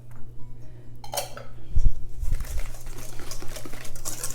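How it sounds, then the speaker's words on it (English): A whisk clinks and scrapes against a metal bowl as eggs are beaten for pastry cream, with rapid, irregular tapping and a low electrical hum underneath. "You're going to put the eggs in there and whisk those."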